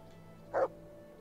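A dog in the video game Kingdom Come: Deliverance gives a single short yip with a whimpering edge, faint and brief over a quiet background hum.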